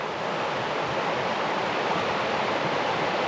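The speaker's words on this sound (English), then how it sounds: "It's like this river is just starting to get its thaw." A thawing river flows through Alaskan old growth forest, its steady broadband rush filling the scene continuously and fairly loud, with no voices heard.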